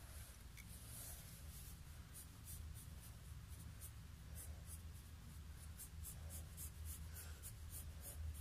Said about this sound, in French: Donc là, pour le croquis, on utilise le crayon papier